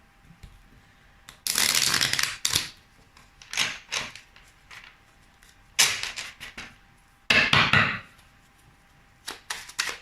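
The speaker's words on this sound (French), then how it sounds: "Alors, on va mélanger un petit peu différemment aujourd'hui." Oracle cards being shuffled in several separate bursts of riffling and rustling, close and fairly loud, with short quiet gaps between the bursts and no talking.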